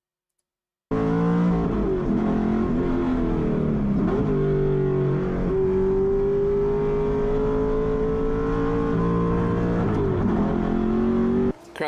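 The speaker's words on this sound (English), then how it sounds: "this might be one of the most extreme cars that I'm about to drive" A car engine revs hard after a silent start, loud and close, its pitch climbing and dropping in repeated surges before it settles into a long sustained high whine and cuts off abruptly at the end.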